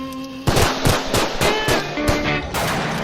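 Rapid bursts of gunfire crack out in a quick, uneven string of loud shots, one after another, with a brief tonal hum in the background.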